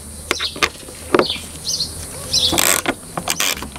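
Bolts on a Hepco & Becker tank guard for a Suzuki V-Strom 800 motorcycle are tightened with a size 4 Allen key, a few close, sharp metallic clicks and ratchet-like ticks spread irregularly, with faint birdsong behind.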